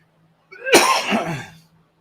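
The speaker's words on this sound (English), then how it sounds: "I'm coughing a lung up." One harsh, close cough bursts out after a short silence, then trails off with a rough, breathy tail.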